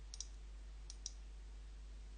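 A computer mouse clicks a few times, sharp and faint, in a quiet room with steady low hum.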